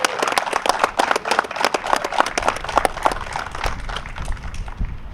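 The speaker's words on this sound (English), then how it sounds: "please give Robin and Sue Ferrulo a big round of applause" A small audience at a police department press conference gives a round of applause, with distinct, fairly close individual claps in a brisk irregular rhythm that carries on steadily throughout.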